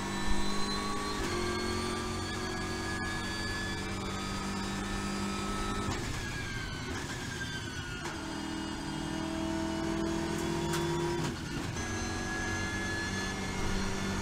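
A Mercedes AMG race car at speed on a dry stretch of the Nürburgring Nordschleife near Schwalbenschwanz and Adenauer Forst, heard onboard as a steady loud engine drone with shifting pitch and gear changes, no talking.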